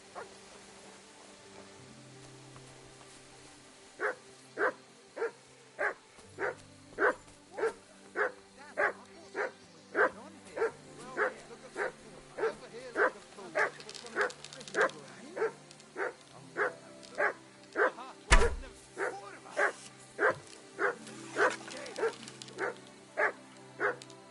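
A dog in the medieval role-playing game Kingdom Come: Deliverance II barks steadily on command, a long run of evenly spaced, sharp barks at close range with no talk over them, one louder thud near the end.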